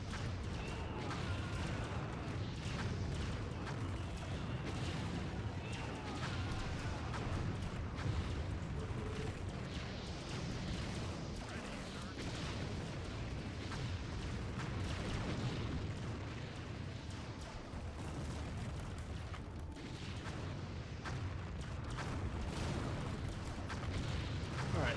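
Tank cannon fire and explosions from an Empire Earth battle in the Russian campaign, a dense, steady barrage of booms and bursts lasting the whole stretch, with a voice occasionally over it.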